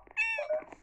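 A cat meowing in a village video game, one short clear meow alone, close and moderately loud.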